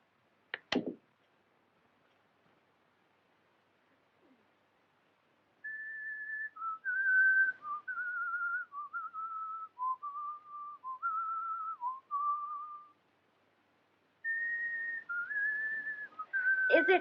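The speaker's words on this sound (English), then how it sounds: "That tune you are whistling, sir, it is an English tune, isn't it?" A man whistles an English tune in two long melodic phrases separated by a pause, clear and close, after a brief click at the start; no talking.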